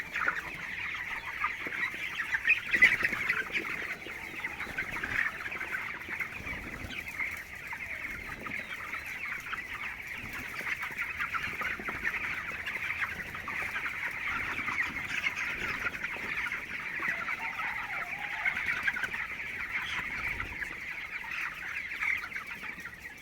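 Broiler chickens in a poultry shed on a cold night keep up a continuous, crowded clucking and murmuring chorus, steady and moderately loud throughout with no talk.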